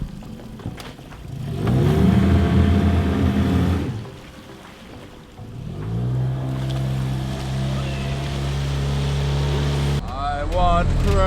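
A motorboat engine revs up and down in loud surges over nearby water as the boat drifts, with people talking over the engine noise.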